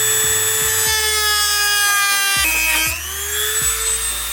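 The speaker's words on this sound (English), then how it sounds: "these little plastic tabs on the front support beam are going to have to be trimmed" A rotary tool cuts small plastic tabs on the front support beam of a Subaru WRX, giving a steady high-pitched whine that dips and rises in pitch under load across a few seconds.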